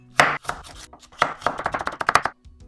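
A knife cuts daikon radish into thin strips on a cutting board, with quick close board taps in short bursts, a pause, then a faster run of chops.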